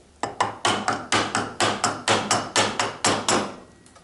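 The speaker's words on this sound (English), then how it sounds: "So, into the wood, give yourself a cut line, don't rotate the chisel, just lean it back" A mallet strikes a wood chisel driven into a wooden workpiece, about fourteen sharp, evenly spaced knocks in a steady rhythm, loud and close, with no talking.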